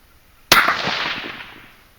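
.223 Remington rifle shot fired with 22.3 grains of Accurate 2230 powder, a single sharp loud crack followed by a decaying echo about a second and a half long, alone.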